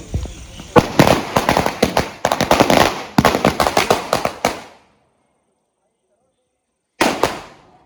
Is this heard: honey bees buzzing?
no